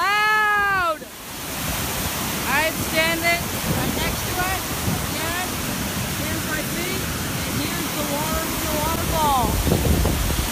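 Big waterfall in Iceland roaring steadily up close, a dense constant rush of water under which a high voice speaks or squeals briefly several times.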